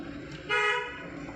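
A single short car horn toot sounds, loud and close, over low road noise.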